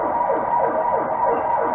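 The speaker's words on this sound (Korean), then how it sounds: "이거 구급차 가는 거예요" An ambulance siren wails in a rapid, repeating up-and-down sweep, loud and close, with no voices over it.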